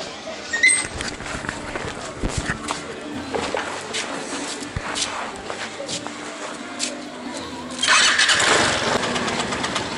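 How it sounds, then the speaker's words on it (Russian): A rental scooter on a street beside a budget hotel in Goa, India, clatters as it is started, then settles into a loud, close engine rumble that swells near the end. "Первый раз поеду на скутере."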